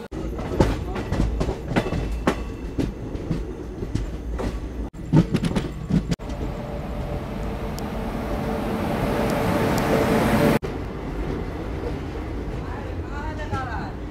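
A night train runs toward New Jalpaiguri Junction with a continuous rumble and rhythmic wheel clatter. Voices can be heard faintly in the carriage, and the roar swells for a stretch before cutting back.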